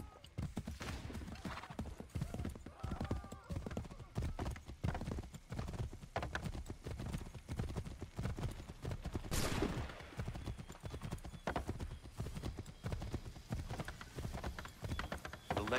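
Steady galloping horse hooves in the game Assassin's Creed III, a fast continuous clip-clop rhythm up close, with a brief whoosh or burst partway through.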